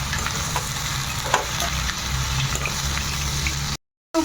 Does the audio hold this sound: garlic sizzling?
yes